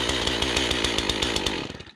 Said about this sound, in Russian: Это бензиновая пила, у нее электронное управление двигателем, система M-Tronic, легкий запуск.